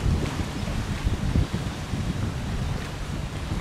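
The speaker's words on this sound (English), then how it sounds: "See how that tree just fell? It's windy," Strong gusty wind at an oceanfront resort in Langkawi, Malaysia, roaring and buffeting the microphone, a constant heavy rumble with no voices.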